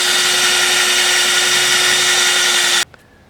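A power drill bores into old, weathered pine as hard as driftwood, a loud steady whine with constant grinding for nearly three seconds before cutting off abruptly into near silence and a faint click.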